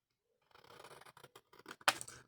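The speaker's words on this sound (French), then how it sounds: "Donc, moi, je prends ma paire de ciseaux." Scissors cutting paper to make custom coasters: a run of short, close snips and paper rustles, then a louder sharp closing cut near the end, with no talking.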